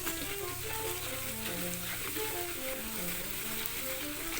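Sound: stir-frying with garlic in a pan, video game-free cooking

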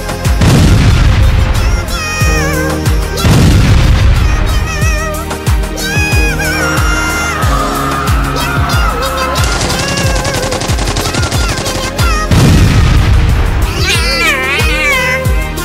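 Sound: explosion from rocket attack

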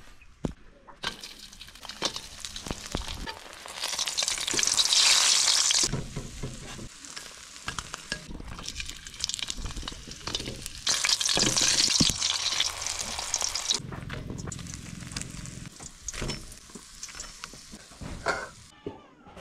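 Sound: food frying in a pan

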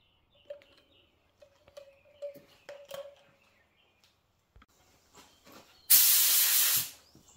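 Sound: paint spray gun spraying

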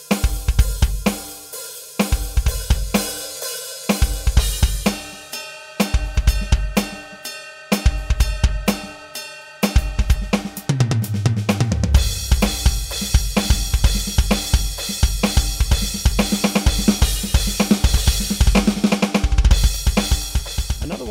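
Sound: Roland TD-30 electronic drum kit, Lang Rock 1 patch

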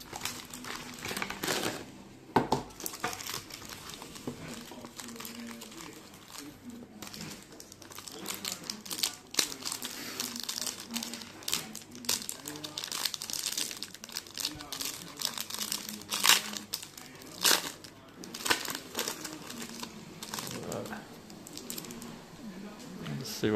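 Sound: ripping open NRL trading card packs

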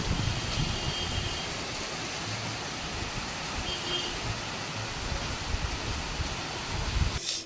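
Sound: heavy rain pouring outside

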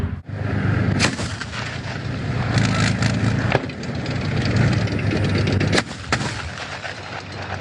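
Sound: infantry fighting vehicle cannon fire

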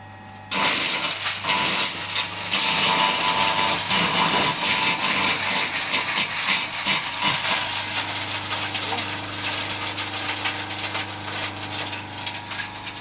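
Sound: garden shredder chipping cut raspberry branches

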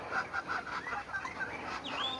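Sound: chickens in a backyard coop

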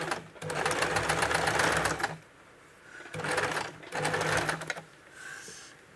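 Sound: sewing machine stitching gota lace onto a blouse sleeve

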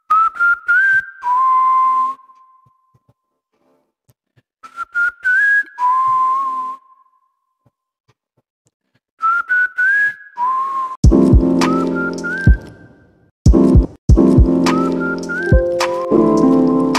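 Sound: processed whistling melody in lo-fi track

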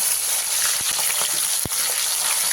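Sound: small river fish frying in hot mustard oil

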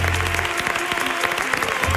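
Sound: audience applause

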